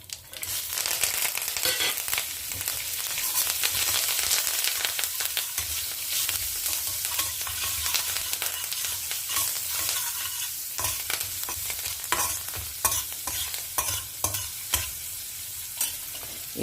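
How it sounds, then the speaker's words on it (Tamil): Mustard seeds and urad dal splutter in hot oil as a South Indian tempering, with a dense, loud, continuous crackle and popping close by, punctuated by sharper snaps throughout. "கடுகு உளுத்தம்பருப்பு பொரிய ஆரம்பிச்சுட்டு"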